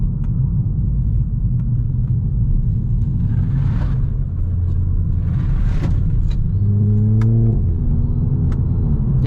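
Volkswagen Scirocco engine droning steadily from inside the cabin while driving, a loud continuous low rumble with a brief rising rev toward the end and faint road and cabin noises over it.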